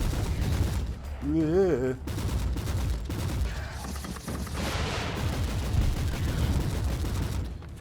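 Ranged gunfire in Warhammer 40,000: Inquisitor – Martyr, a dense, steady barrage of game shots and impacts running throughout, with a short whistling effect early on and a brief voice over the action.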